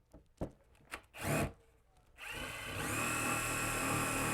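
A power drill drives a screw fastener through an InSoFast half-high wall panel into a wall stud. Short taps and bursts give way to a loud, steady, continuous motor whine that runs to the end, close and without talk.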